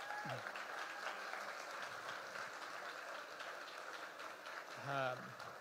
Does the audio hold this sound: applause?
yes